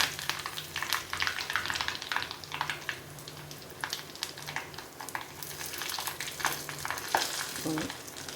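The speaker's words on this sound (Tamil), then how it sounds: "எண்ணெய் சுட்டோன்னா கடுகு போட்டுடலாம்." Mustard seeds crackle and sizzle in hot sesame oil in a pan, a steady busy fry with sharp pops throughout, close and moderately loud with no talk.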